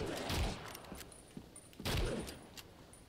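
Rifle gunfire in the Evil Dead video game, a couple of sharp loud shot bursts about a second and a half apart, with a lever-action rifle and small clicks and rattles in between.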